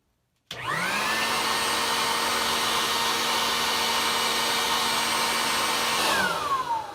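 A leaf blower starts abruptly and runs at a loud, steady roar while forcing lint out of a clothes dryer duct, its pitch winding up at the start and sagging slightly near the end, with no voices.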